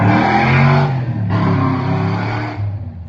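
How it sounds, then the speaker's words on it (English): A loud monster truck engine near the beach roars close by, its pitch holding, dipping briefly and then revving up again before trailing off, with no voices. "every now and then you get like great monster trucks and stuff like that"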